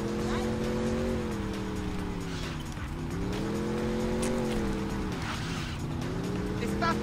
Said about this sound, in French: Cette voiture est assez sympathique. Elle va assez vite.